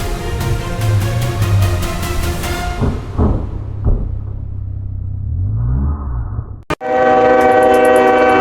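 A train horn blasts loud and close in a long sustained chord, followed by the heavy rumble of a passing train, a sharp crash-like break, and then another bright, tonal horn blast.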